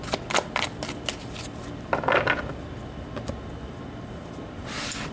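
Tarot cards being shuffled by hand, a series of quick crisp riffling bursts close by with pauses between them, quiet otherwise and no talk.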